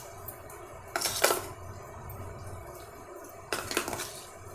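Curd and milk being mixed for curd rice, a spoon clinking against a steel bowl in two short bursts of scraping and clatter, close and moderately loud over a quiet kitchen background.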